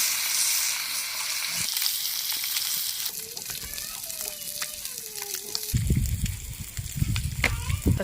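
Fish pieces sizzle and fry in oil in a pan over a wood-fire stove in a village kitchen, a steady close crackle that grows louder near the end, with faint voices in the background.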